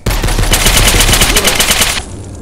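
Rapid automatic gunfire in the indie shooter game Lost Memories: Ghosts of the Past, a loud and sustained burst of closely spaced shots that cuts off after about two seconds.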